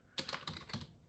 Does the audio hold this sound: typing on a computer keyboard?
yes